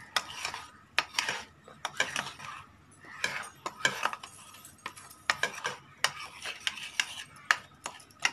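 A spoon stirs milk powder into a mixture for angoori rabri, a sweet milk dessert, giving repeated scraping clinks against the bowl in quick bursts with short pauses, close and clear, with no voices.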